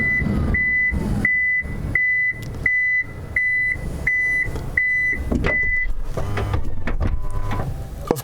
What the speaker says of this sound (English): if I want to shut the door, I just touch the handle and it shuts